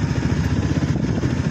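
Motorcycle engine on a mountain road in Sikkim, a brief loud, steady throbbing drone with buffeting wind noise.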